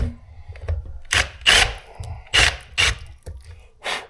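A unibit step drill bit cuts into a stock Chevy fuel pump basket being fitted for a Walbro 525 pump, heard as several separate loud grinding bursts of about half a second each between short pauses, fairly close.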